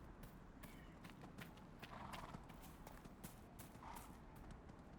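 Horse hooves clip-clop in a steady walking rhythm through a snowy Hinterlands area in the video game Dragon Age: Inquisition, fairly faint and low in the mix, with occasional brief whinny-like tones over soft ambient game sound.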